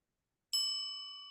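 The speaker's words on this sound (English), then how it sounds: "That's the 1 minute bell, so you'll know you have a minute left." A single clear electronic bell chime from an online meeting timer marking one minute left, striking after a half-second of silence and ringing on with a slowly fading bright tone, heard alone.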